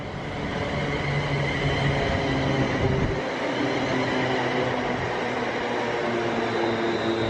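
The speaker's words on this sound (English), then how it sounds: "This is a train that's come from, I think, Crewe and going to London Euston." A passenger train from Crewe bound for London Euston runs through a station, a steady rumbling roar with tonal hums and a shift in pitch partway through as it passes, loud and continuous without talk.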